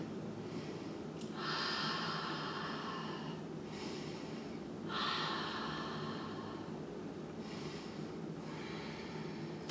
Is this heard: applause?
no